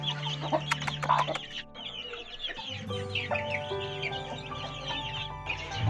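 A hen being fed live insects clucks close by, with chicks around, giving a run of short, busy clucks and calls over a quiet background.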